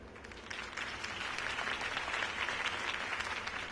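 Steady applause from a crowd, a dense wash of many hands clapping at moderate distance throughout, with no speech over it.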